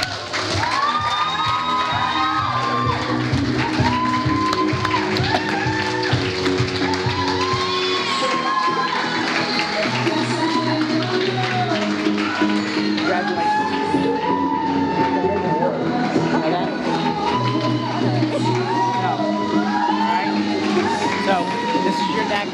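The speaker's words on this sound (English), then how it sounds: "would you please give a huge round of applause for Jay O'Connor" An audience at an Australian awards night applauds and cheers for an award winner, with shouts, whoops and loud sustained clapping over background music, voices mixed in throughout.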